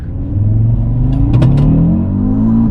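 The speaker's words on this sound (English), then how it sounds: "Full throttle. 1, 2, 3." An Audi RSQ3 engine revs hard at full throttle, a deep rumbling drone climbing steadily in pitch for a few seconds with a brief higher whir partway through, heard from inside the car.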